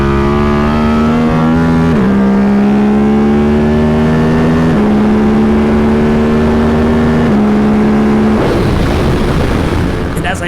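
A KTM race motorcycle engine revving hard and loud up close, with a rising high-pitched roar through several throttle blips and shifts, then dropping off at the end.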